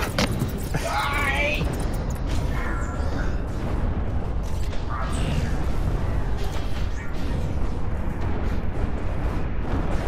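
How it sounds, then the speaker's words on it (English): A commander explodes in the video game Planetary Annihilation, on a lava map: a deep, continuous rumbling blast roars throughout, with people talking over it. "Enemy commander explosion imminent."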